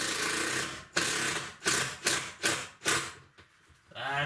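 A power driver sinks screws into the plywood ceiling of a tiny house, with about six short, loud whirring bursts separated by brief gaps, followed by a quieter mechanical sound at the end.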